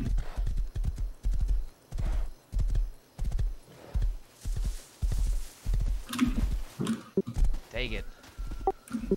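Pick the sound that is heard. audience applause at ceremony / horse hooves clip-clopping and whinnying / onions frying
horse hooves clip-clopping and whinnying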